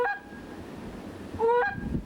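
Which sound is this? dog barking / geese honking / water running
geese honking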